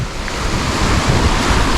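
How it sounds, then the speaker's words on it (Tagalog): Ocean surf at Baruan Beach in Agno, Pangasinan, washes steadily with broadband roar and wind buffeting the microphone, no voices present. "Lumalakas na yung alon."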